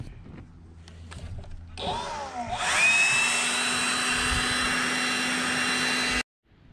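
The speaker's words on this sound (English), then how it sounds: "we could definitely help dry things along with our vacuum here," A vacuum running in reverse as a blower to dry freshly applied sealant on an RV roof starts up around two seconds in and holds a loud, steady whine and rush until it cuts off abruptly near the end.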